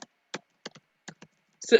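Fingers type on a computer keyboard in a few short separate bursts of key clicks with quiet gaps between them, ending in a louder flurry.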